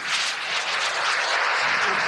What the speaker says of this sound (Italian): Sentiamo che è un motore piccolissimo a turbina